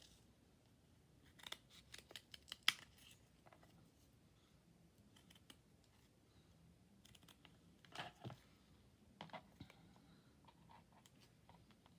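Scissors snip through a paper tag in a few quiet, separate bursts of crisp clicks, with long silent gaps between the cuts and no speech.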